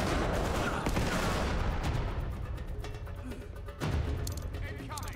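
Gunfire from a blind-firing enemy marksman in Uncharted 3 clatters in rapid bursts, with crackling shots and a sharper report near the end over a busy, dense game mix.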